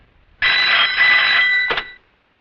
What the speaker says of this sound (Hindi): जरा शिर्के को फोन लगा